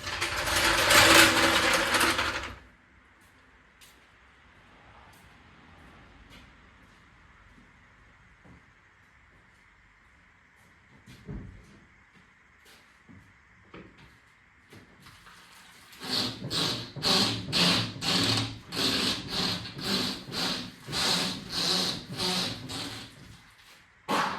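A maroon Mk1 Volkswagen Golf is rolled back and forth and its suspension bounced by hand, giving a loud creaking burst at the start, quiet shuffling, then a rapid rhythmic run of squeaks and clunks near the end.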